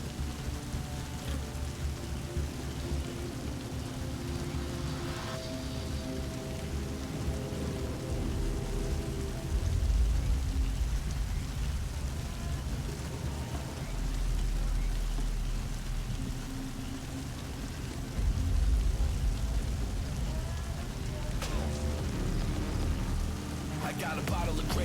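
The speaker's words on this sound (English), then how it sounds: "It's raining right now." Steady rain falls in a continuous hiss across the whole stretch, with low rumbling swells now and then and a few faint knocks.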